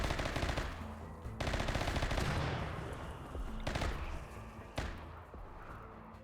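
Rapid bursts of automatic gunfire from a RimWorld colony firefight, loud and dense, with several sharp volleys and brief pauses between them.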